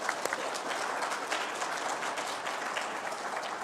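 Congregation at a Unitarian Universalist worship service applauding, a dense, even wash of many hands clapping throughout, slightly distant and moderately quiet, with faint voices mixed in.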